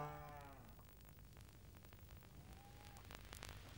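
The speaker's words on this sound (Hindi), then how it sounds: "सुनो भैंस, भैंस की आवाज।" A water buffalo in a shed gives one deep, drawn-out low at the start, moderately near. Quiet rustles and faint distant noises follow.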